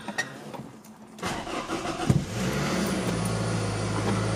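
A 2006 Scion tC being started: a short cranking whir catches into a firm engine rev that settles into a steady idle hum, close and clear with no talking.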